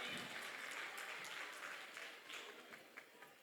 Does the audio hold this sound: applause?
yes